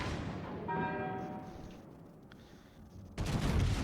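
Naval gun salvo from warships in the World of Warships video game, a loud booming burst that rises sharply near the end after a quieter rumbling stretch.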